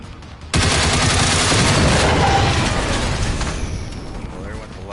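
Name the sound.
AK rifle gunfire, Generation Zero video game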